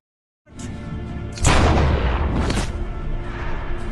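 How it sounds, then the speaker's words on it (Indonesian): A loud booming gunshot in a film scene, following a brief silence, with a second blast about a second later and a sustained rumbling roar that carries on afterward. "tiba-tiba si Driver itu muncul dan langsung menembak si kakek Tyson tersebut"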